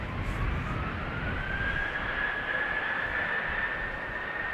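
KLM Boeing 737-800 bound for Oslo, heard as a continuous loud roar of jet engines with a rising whine on departure from runway 36L at Amsterdam Schiphol Airport.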